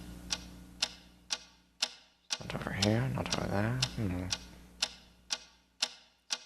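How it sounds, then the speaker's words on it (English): Steady clock-like ticking, sharp and evenly spaced about twice a second, runs throughout, continuing under a few seconds of speech in the middle. "What is that mysterious ticking noise?"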